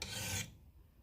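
A raker file rasps along an axe's beveled edge in one steady stroke for about half a second, fairly loud and close, then stops, leaving only faint room noise with no talking.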